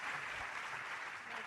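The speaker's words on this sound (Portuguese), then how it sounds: "Vamos receber com forte aplauso, por favor, a minha esposa Juana." Applause from a live event audience, a dense steady clatter of many hands clapping at moderate distance with no pauses.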